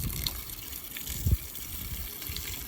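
Water gushing from a hose to fill a pig wallow in a garden, a steady faint splashing stream with one brief louder splash, no voices.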